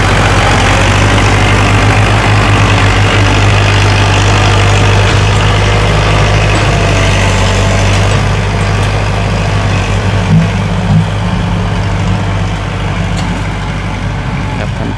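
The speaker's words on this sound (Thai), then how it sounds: "เกรดดินทำทางให้รถบรรทุกวิ่งครับ" A tractor grades soil to build a road for trucks, its heavy engine rumbling loud and close in a steady, continuous drone that eases slightly in the second half.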